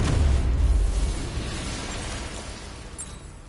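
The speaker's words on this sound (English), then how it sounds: "I shouldn't detonate until I'm further away." Charges detonate in Batman: Arkham Knight, a deep rumbling boom with crackling debris that starts loud and slowly decays over several seconds, with a faint high shatter near the end.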